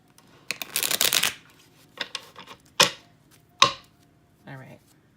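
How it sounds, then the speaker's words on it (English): Tarot cards being shuffled by hand: a long dense riffle of flicking cards, then several shorter separate bursts of card shuffling, close and fairly loud with no talking. "I'm going to do one more shuffle, and then let's throw some cards out there."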